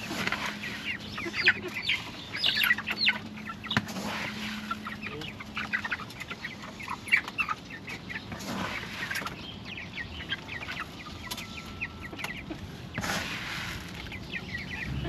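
Backyard chickens cluck in scattered bursts, fairly soft and steady throughout. The short calls overlap at a modest distance, with no voices over them.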